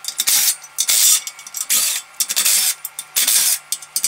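Metal clutch plates from a clutch stack being pulled apart and handled up close, with short irregular scraping and clinking bursts separated by brief silences.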